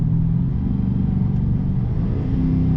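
2021 Dodge Challenger R/T engine revving under full throttle in second gear, a steady, loud, deep rumbling drone heard from inside the car, with no talk.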